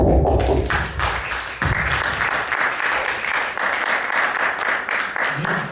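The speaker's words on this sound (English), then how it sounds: "I want you all to applaud yourself" An audience applauds itself in a talk hall, a dense, steady patter of many hands sustained for several seconds at close range, with a few louder thumps near the start and no voices over it.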